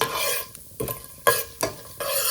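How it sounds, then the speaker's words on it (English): Mustard seeds crackle, pop and sizzle in hot oil with a few sharp bursts of spluttering, close and fairly loud, no voices. "You can hear the mustards spluttering."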